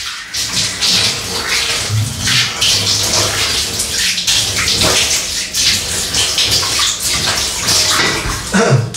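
Steady running water splashes and gushes close by as a single-edge razor is rinsed under a tap after shaving, continuous for several seconds with no talking.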